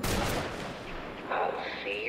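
Sniper gunfire in Batman: Arkham City, heard as a burst of sharp shots at the start that thin into rumbling, with a couple of later brighter impacts; the sound is moderately loud and continuous throughout.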